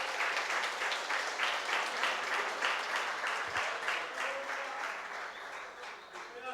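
Church congregation applauding during a worship service, a dense steady wash of many hands clapping with faint voices mixed in, fairly even in level throughout.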